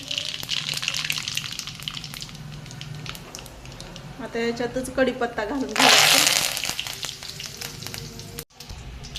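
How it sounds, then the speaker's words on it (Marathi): Cumin and mustard seeds crackle in hot oil for a spicy brinjal curry, then a loud sudden sizzle flares up as curry leaves go into the pan. Someone talks over the frying. "हे बघा, जिरे मोहरी चांगली तडतडली."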